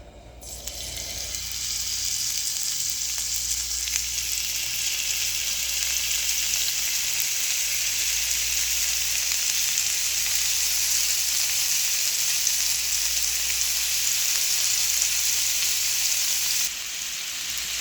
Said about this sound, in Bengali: এটা শ্যালো ফ্রাই হবে, সেই জন্য অল্প করেই তেল দিচ্ছি।